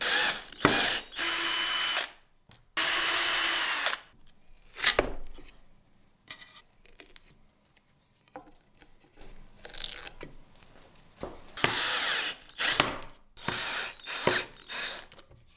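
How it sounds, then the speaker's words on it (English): Power drill driving two screws to mount the faces of a small woodworking project, several loud whirring bursts with pauses between, close and alone, followed by softer handling clicks and clatter. "I am mounting both faces using 2 screws."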